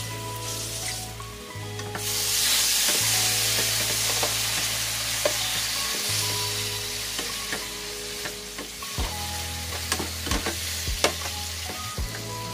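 Vegetables sauté in oil in a pan with a loud, continuous sizzle, while a spatula scrapes and stirs at regular intervals.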